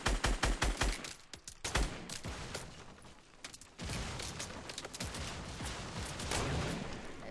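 Fortnite gunfire in a duo match: rapid bursts of shots crack close and loud at the start, then heavy, dense automatic fire and explosions keep going without a break.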